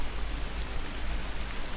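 Steady rain pouring down, a dense even patter of drops on surfaces with no other sounds or voices.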